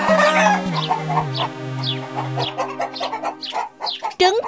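Cartoon chickens cluck and squawk in a coop, a run of loud, close, excited clucks over a sustained musical backing, ending in a sharper squawk.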